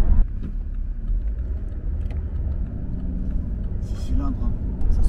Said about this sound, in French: 6 cylindres, hein. Ça sonne le bonheur comme on dit chez nous.